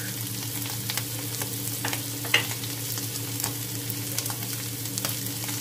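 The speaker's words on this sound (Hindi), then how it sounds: "और इसको थोड़ा भूनेंगे" Spices with black salt and plain salt roast in a pan, producing a steady, fairly quiet sizzle broken by light scraping and a single sharper tap, heard close and alone.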